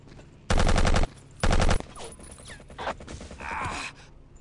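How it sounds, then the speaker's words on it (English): Two loud bursts of automatic gunfire from Battlefield 1942, each about half a second long, followed by quieter scattered shots, shuffling movement and faint background sounds. "That last bullet just about took me out"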